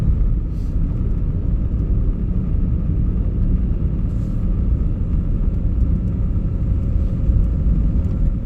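Steady low road rumble from inside a car driving at night in fog, a constant droning hum of engine and tires that holds evenly throughout with no voices.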